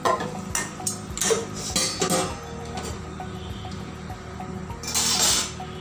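Whole red chili pieces and curry leaves are stirred into a tempering (tadka) in a pan for khandavi, with clinks and scrapes of a metal spoon against the pan, louder bursts near the start and end, and a faint sizzle underneath.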